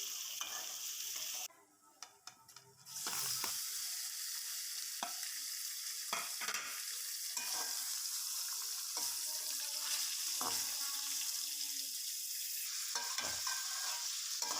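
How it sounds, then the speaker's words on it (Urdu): Boneless chicken and garlic paste frying in a karahi give a continuous hissing sizzle, with occasional spoon taps and scrapes and a brief quieter gap near the start. "درمیانی آنچ پر چکن کو فرائی کریں گے، تقریباً 5-6 منٹ۔"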